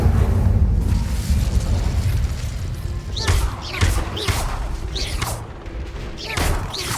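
A fire spell cast in Hogwarts Legacy inside a haunted shop, a rumbling burst of flame followed by several whooshing, crackling bursts with dull thuds.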